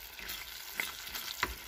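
Tomato chutney with vinegar simmers in a pan on a gas stove, giving a faint, steady sizzle and bubbling broken by a couple of soft pops, with no voices.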